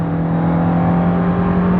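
A 1990 Honda CRX with a 1.6 16v engine pulls hard in third gear near 5000 rpm, a loud, close, sustained engine drone with steady harmonic tones as the throttle is held down.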